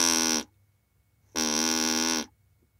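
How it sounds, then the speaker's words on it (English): The reed-type sound source of the VTM-T20 vocal-tract model produces two loud, steady buzzing tones, each about a second long with a brief pitch dip, separated by near silence. "The reed-type sound source sounds like this."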